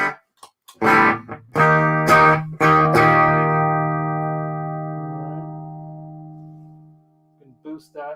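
Electric guitar played through an EVH 5150 amplifier on its clean channel: a few picked notes and then a ringing chord that sustains and slowly decays, loud and close, with brief voice sounds at the end.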